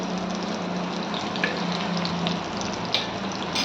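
Meal maker chunks fry in oil on a low flame with a continuous bubbling sizzle, loud and close, plus a few faint pops over the steady hiss.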